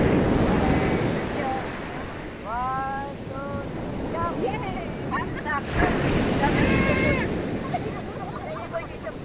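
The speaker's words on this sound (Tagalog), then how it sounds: "Ayan po ang alon, parating ang alon." Waves wash in and break on a beach at San Juan, La Union, a continuous rushing roar with gusty wind noise, while a person talks intermittently nearby over the surf.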